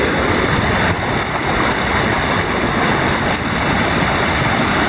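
River water pours steadily over a notched weir into a deep pool below, a loud, continuous broadband rush with no pauses.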